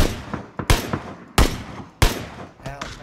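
Three loud, sharp gunshots in an online shooter video game, fired close at an even pace, each a hard crack with a short tail, followed by a fainter trailing effect.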